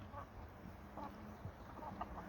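Faint, low clucks from a rooster come in soft bursts over a steady background hum, quiet and somewhat distant, on a farm pasture.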